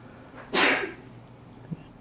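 A single sharp sneeze bursts out close by, followed by quiet room tone and a faint thump.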